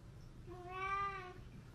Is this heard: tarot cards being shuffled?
no